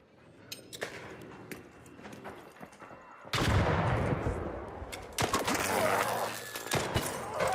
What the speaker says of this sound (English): Did this guy seriously just shoot at me after that?